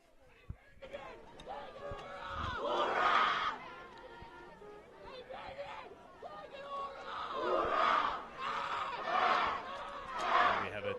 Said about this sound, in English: Penryn's crowd say that we accept your challenge, Trinity crowd. We will also make noise.